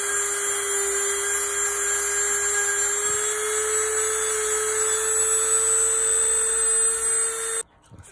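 A high-pitched rotary tool whines steadily at close range, sanding a dental prosthesis continuously before cutting off abruptly near the end.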